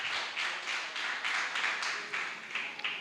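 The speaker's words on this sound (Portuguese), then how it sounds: "vamos aplaudir o Senhor Jesus bem forte" A church congregation applauding, a steady wash of many hands clapping together at moderate volume, with rhythmic swells and no speech over it.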